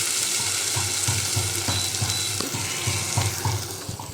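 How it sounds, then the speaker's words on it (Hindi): Aloo matar, a potato and pea curry, sizzles and fries in a pan with a steady hiss, punctuated by rhythmic scraping as it is stirred. "हमारा आलू मटर का सब्ज़ी बनते हुए"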